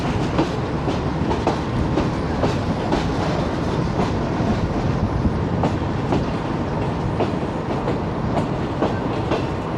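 The Shalimar Express passenger train pulls out in Pakistan, its wheels clacking over rail joints in a steady, loud, repeating rhythm heard from on board. Nobody speaks over the rolling rumble.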